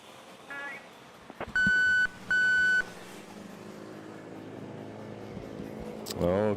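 Two loud, sustained electronic beeps come from a motorcycle in traffic near a Manila airport, each lasting about half a second, over steady road noise with a brief chirp near the end.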